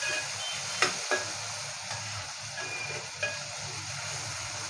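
Spice paste for an Agari Koli style prawn curry sautéing in a pan, a soft steady sizzle with a few faint clinks of a spoon against the pan.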